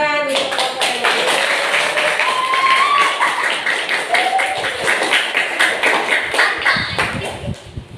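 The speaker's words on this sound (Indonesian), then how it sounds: "Tepuk tangan untuk kelompoknya." A classroom group claps for a team of students called up to present, a dense patter of hand claps running the whole time over overlapping voices and chatter, then thinning out near the end.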